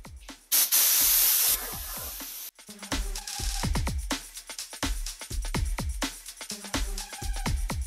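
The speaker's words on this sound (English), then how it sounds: "I'm gonna dust this with some orange paint." An orange aerosol spray can coats a mailbox: a loud steady hiss lasts about two seconds, followed by a string of sharp clicks and taps from handling the can and the mailbox.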